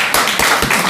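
A small congregation at a Christmas worship service clapping, with quick, dense, close handclaps in a short burst.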